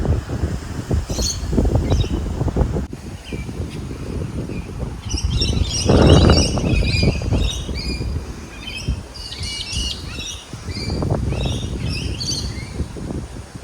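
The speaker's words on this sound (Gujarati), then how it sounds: "મસ્ત પંખી બોલે, એવી મજા આવે ને સવાર સવારમાં અહીંયા." Many birds chirp and tweet continuously from nearby trees in the morning in Australia, bright and overlapping, over a low rumbling wind or distant traffic.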